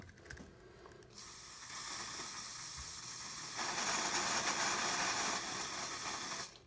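Axe body spray sprayed from an aerosol can onto Lego pieces marked with Sharpie, a loud, steady close-up hiss lasting several seconds after a brief quieter lead-in, with no talking.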